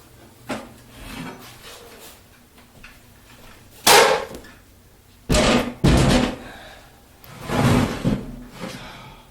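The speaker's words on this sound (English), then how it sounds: "I'll take the bandsaw off the stand" A bandsaw is lifted off its stand in a workshop, giving several loud wooden knocks and thuds, heavy scrapes and bumps at irregular intervals, with quieter shuffling and handling noise between them.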